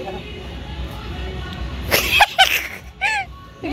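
Two or three sharp, close coughs in quick succession during a home Holi celebration, followed by a short voiced throat sound, over a low background murmur.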